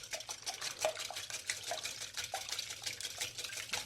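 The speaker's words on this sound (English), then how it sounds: "I'm going to go ahead and whisk them a little bit before we add the other things to it." Eggs being whisked in a dish, a steady run of quick light clinks and scrapes of utensil against the bowl, close and fairly quiet with no talking.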